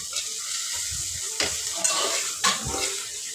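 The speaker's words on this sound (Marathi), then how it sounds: "कांदा लसूण मसाला आणि व्यवस्थित मिक्स करून घ्यायचा आहे" Bitter gourd curry with onion-garlic masala stirred in a pan, a steady sizzle under scraping spoon strokes, with two sharper clinks of the utensil against the pan near the end.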